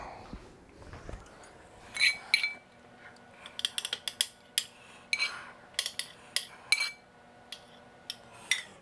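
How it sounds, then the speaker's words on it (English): Metal spoons and cutlery clink and tap in a home kitchen while a sauce is being made, a series of sharp, bright, close clinks scattered over several seconds with no talk. "Let me just get a spoon."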